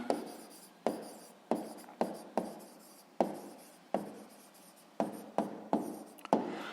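Pen strokes on paper come as a series of short, crisp scratchy bursts, about a dozen quick marks in an irregular rhythm, close and fairly quiet with no voices.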